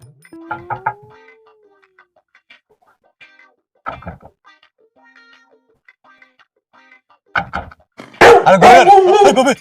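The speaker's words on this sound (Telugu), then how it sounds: "లోపల కుక్క ఉంది" A dog barking in short scattered bursts, with quieter yips and a brief whine between them, ending in a loud, sustained run of barking near the end.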